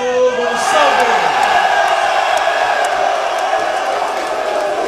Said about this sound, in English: An exuberant crowd cheers on one of their own as Cristiano Goncalves picks up the first round submission